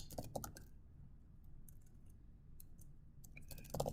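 Faint clicks of typing on a computer keyboard while entering text into an Excel spreadsheet, a few quick keystroke clusters at the start, scattered taps in the middle and another cluster at the end.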